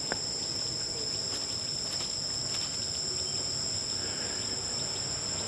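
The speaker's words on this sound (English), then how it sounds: "I'm hearing the cicadas." Cicadas buzzing in trees, a steady, loud, high droning chorus that fills the whole stretch without pause, with no talking.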